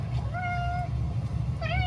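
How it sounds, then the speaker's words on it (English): A neighbor's cat walking along outdoors gives two clear meows, one long drawn-out cry and a shorter one near the end, close by over a low rumble of ambient noise. "My neighbor's cat decided to adopt us, and we go for long walks."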